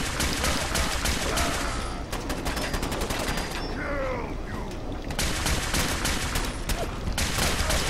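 Gunfire in the video game Fallout 4: rapid bursts of automatic shots in dense, loud volleys that stop briefly, then resume for several seconds, with a few faint game voices behind.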